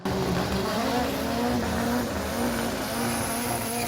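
A Mk1 Golf drag car with a wheelie bar roars through a hard run, its engine note loud, steady and continuous with a faint tire-squeal edge, with no voices.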